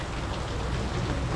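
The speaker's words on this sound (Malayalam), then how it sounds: "കനത്ത മഴയാണ്" Heavy rain pours steadily outdoors, a dense, even hiss of drops that stays loud and unbroken with no voices.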